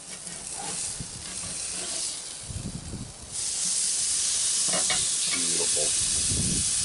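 Whole chicken sizzling skin-side down under a Lodge griddle on a Sportsman's grill: a hissing, crackling sizzle that jumps much louder about halfway through and keeps a steady roar, with a few clanks and no talking.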